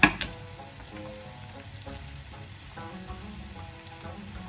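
Onions sizzling and frying in a pan with salt for a lamb tajine, a steady crackling sizzle with a sharp clatter at the start and occasional stirring sounds.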